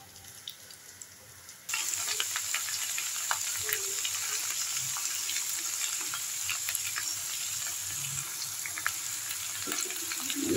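Cut potato, pumpkin, sweet pumpkin, eggplant and yardlong beans hitting hot oil in a pan, then a steady loud sizzle with faint crackles and occasional stirring clinks, close up and without talk.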